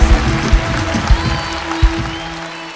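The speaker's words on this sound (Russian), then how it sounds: "вот примерно такие аплодисменты я слышал где-то лет 25 назад" Loud audience applause fills a concert hall during a comedy show, sustained clapping with a few heavier thumps and a faint tone lingering underneath.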